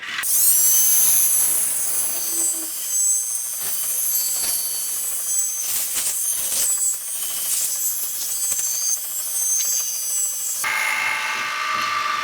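Amboyna burl wood being turned on a lathe with a carbide cutting tool, a loud continuous high-pitched whir and hiss with repeated scraping surges as the cutter bites, running steadily without voices.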